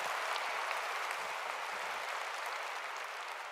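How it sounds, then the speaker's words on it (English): A large audience at the Red Hat Summit general session applauds a guest with a dense, even wash of clapping that stays constant and fairly distant throughout. "Let's give him a warm applause"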